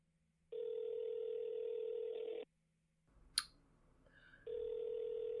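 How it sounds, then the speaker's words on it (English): A telephone rings in two long, steady electronic tones separated by a pause with a brief click and faint background noise, close and clear. "The phone is ringing."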